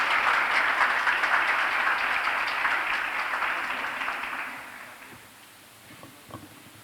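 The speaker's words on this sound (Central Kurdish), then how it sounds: "بە چەپڵەیەکی قایم پێشوازی لێ دەکەین" An audience at a private school ceremony welcoming students applauds steadily, a dense, loud wash of clapping that tapers off toward the end and gives way to faint room noise.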